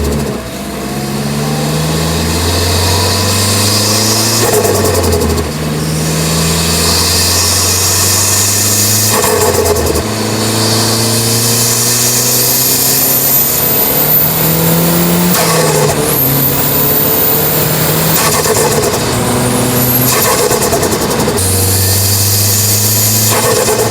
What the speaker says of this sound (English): Y'all asked for boost noises,